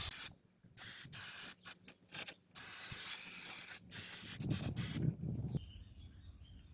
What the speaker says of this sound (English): we're just going to hit this with some brake clean just to get rid of all that brake dust and dirt